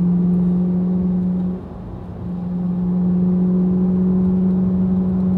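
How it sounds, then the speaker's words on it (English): A Ferrari driven around a race track, its engine a loud, steady high whine that briefly drops off around a shift or corner before building again, heard from inside the car without talk. "This is around the Fiorno track with a Ferrari"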